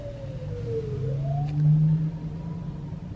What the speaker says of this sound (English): Run down the side street, and next there'll be an ambulance.